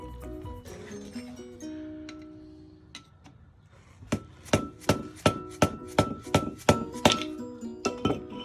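A screwdriver is hammered around a wheel bearing seal on a 1990 Ford Ranger to pry it up, a rapid series of sharp metallic taps, about a dozen strikes in quick rhythm after some quieter clinks.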